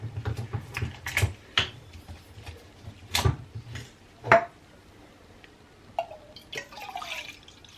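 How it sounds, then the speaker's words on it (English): Worcestershire sauce is poured into a pot of three-bean chili in a quiet kitchen, heard as a few scattered splats and drips mixed with light clinks of the bottle and pot, with near-silent gaps between. "I'm going to put in some Worcestershire sauce."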